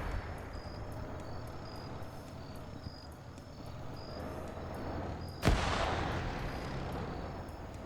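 Video game combat: a single loud, close blast from a satchel charge cuts through the quiet outdoor ambience of insects and distant rumble, followed by a lingering crackle as light machine gun fire is taken.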